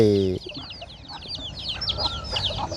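Chickens kept in a pen on a Thai farm cluck and chatter in a steady, fairly close stream, with a voice speaking briefly at the start before the birds carry on alone.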